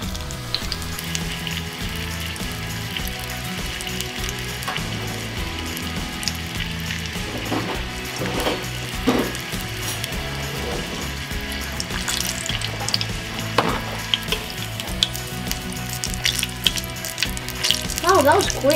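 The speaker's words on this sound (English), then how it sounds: "you're frying raccoon now" Small chunks of raccoon meat fry in a pan with a steady loud sizzle and crackle, while people talk intermittently over it.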